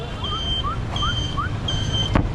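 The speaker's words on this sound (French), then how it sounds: "Et les klaxons aussi, hein. Ça c'est tout Ho Chi Minh ça aussi." On a typical tree-lined street in Ho Chi Minh City, vehicle horns beep and honk in short repeated toots, with chirping tones over a steady rumble of passing traffic; a brief thump near the end.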